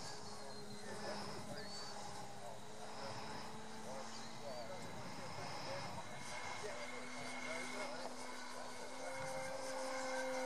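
An electric Parker Bip RC biplane with a 120 electric motor flies at an R/C club fun fly, its steady whining drone continuous throughout at moderate distance, with people talking faintly nearby.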